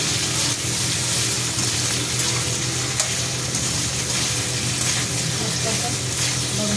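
Garlic and green chillies fry in hot oil with a steady, dense sizzle and crackle that holds level the whole time, with faint stirring and clinks beneath.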